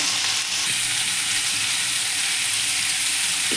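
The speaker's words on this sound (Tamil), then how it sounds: "நல்லா வதக்கி விட்டுட்டு லாஸ்ட்டில் தக்காளி போட்டுக்கலாம்." Tomatoes sauté in a pan for wheat rava kichadi, a steady broadband sizzle and fry hiss running continuously up close, with faint stirring scrapes and no voices.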